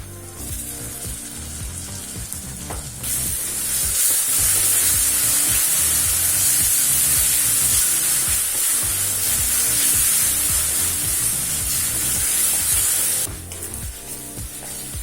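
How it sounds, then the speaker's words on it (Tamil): Onion, tomato, ginger and garlic masala sauté in a hot pan for soya chunk gravy, a loud steady hiss that swells into a fierce sizzle partway through and then eases back, with stirring scrapes underneath. "இப்போ தக்காளி, இஞ்சி, பூண்டு எல்லாத்தையும் நல்லா பச்சை வாசனை போக வதக்கிக்கலாங்க"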